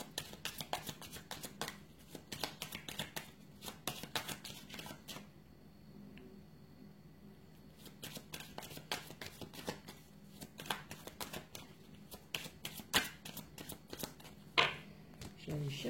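Playing cards are shuffled close by in repeated crisp flurries with short pauses between them, sounding alongside a person speaking quietly.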